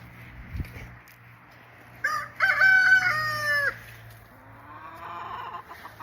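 A rooster crows once, loud and close, with a low hum in the background and a hen's soft clucking trailing afterward.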